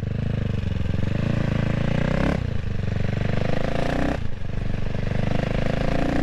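A CCM Spitfire Six motorcycle thrums loudly and steadily at close range while being ridden on the road, its engine note dipping briefly twice during gear changes before pulling on again.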